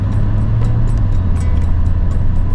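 Toyota Tundra in four-wheel drive rolling over ice on Yokohama Geolandar tires, giving a steady low engine hum and road rumble from inside the cab, with faint periodic ticks and clatters over the drone.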